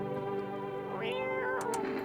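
Cat meowing in the video game No I'm Not a Human, a single drawn-out tonal meow rising and falling over steady game background music, close and moderately loud.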